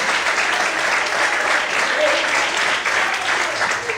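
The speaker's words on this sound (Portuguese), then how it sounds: "Você pode aplaudir a Deus." A church congregation claps continuously during a sermon service, a loud, dense and even wash of applause with some voices faintly mixed beneath it.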